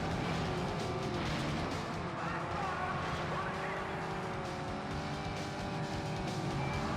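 Race cars in the Test Drive Spin destruction derby circuit of a racing video game roar steadily with shifting engine pitch, a dense continuous drone with hints of tyre noise, and someone talking over it.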